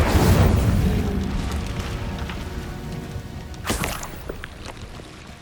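Incendio fire spell cast in Hogwarts Legacy: a heavy booming whoosh that rolls and crackles, then a second sharp burst a few seconds later, both loud and close.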